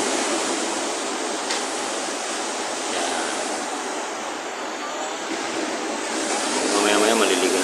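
Gentle ocean waves at a beach resort at low tide, a steady broad wash of surf, soft and continuous with a slight swell toward the end.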